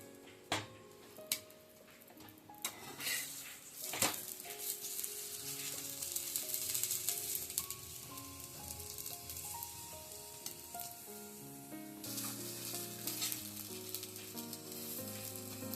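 Aloo paratha toasting in oil or ghee on a pan, edges pressed down: a crackling sizzle rises and falls over about sixteen seconds, with sharp utensil taps and scraping early on and a soft background tone, no talk.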